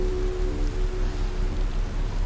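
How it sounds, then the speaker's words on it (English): Rain patters steadily on a spacesuit visor during a storm in the Outer Wilds video game, a dense continuous hiss of drops and drips heard up close with no talking. "There's an effect on my visor. Raindrops and drips."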